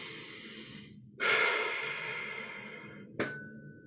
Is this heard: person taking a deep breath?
yes